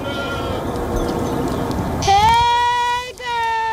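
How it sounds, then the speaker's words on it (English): A goat used to clear a patch of land in suburban Los Angeles bleats loudly and close by, a wavering drawn-out call that follows a stretch of background noise, with a voice speaking early on. "goats are being used to clear off a patch of land"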